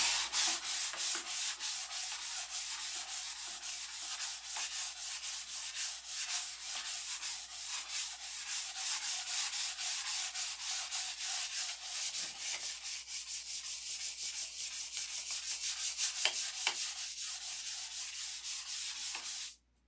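600-grit sandpaper rubs back and forth in a steady, rapid rhythm, a continuous close scratchy hiss that keeps going without pause before stopping abruptly.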